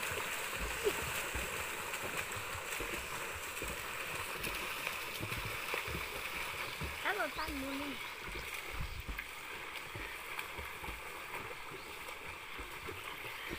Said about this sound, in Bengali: শুরু হয়ে গেছে সাঁতার প্রতিযোগিতা